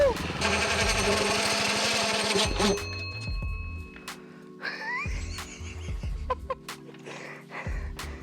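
A go-kart engine runs loud and close with a rapid, rattling, jackhammer-like pulse, then drops to a lower, uneven putter while people's voices come and go.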